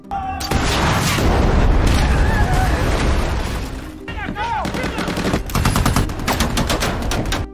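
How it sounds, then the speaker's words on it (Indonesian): Heavy bursts of rapid gunfire and booming bomb blasts from a film battle scene fill the scene, loud and continuous, with a brief lull before another volley of shots. "Lalu kemudian bom meledak dan menghancurkan sebagian ruangan."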